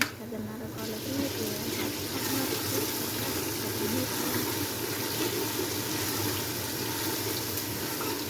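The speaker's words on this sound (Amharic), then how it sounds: "ውሃ ጨምራለሁ ማለት ነው።" Water is poured into a cooking pot for a beef-and-rice dish, making a continuous, soft splashing rush that stays fairly quiet and even throughout.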